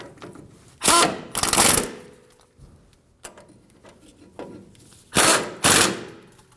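A pneumatic impact wrench snugs down the rear brake bolts on a 2009–2014 Ford F-150. It fires in two pairs of short, loud rattling bursts with quieter clicks and shop noise between them.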